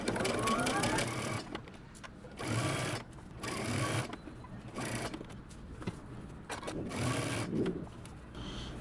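Sewing machine stitching down the collar of a button-up shirt at a 5/8 inch seam allowance, running in steady bursts of fast mechanical whirring broken by brief pauses, close and fairly loud.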